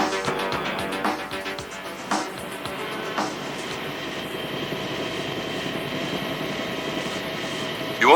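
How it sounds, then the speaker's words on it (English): A helicopter arrives as a radio-play sound effect, its steady rotor and engine drone sustained and fairly loud throughout, with a few sharper knocks early on and a brief swell at the very end. "The helicopter should be arriving any minute."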